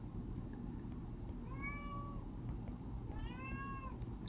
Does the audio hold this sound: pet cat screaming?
yes